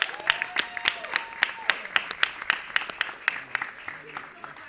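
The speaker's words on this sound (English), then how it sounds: "Give yourselves a round of applause." A small crowd applauds, sparse individual claps ringing out over a few seconds with voices mixed in.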